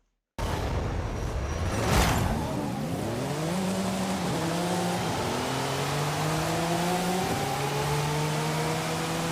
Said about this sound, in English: Here we have our Porsche 935 number 70 race car